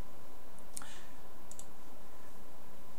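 A computer mouse clicks a few times, sharp and close, with a pair of quick clicks early and another pair later over a faint steady room hum and no talk.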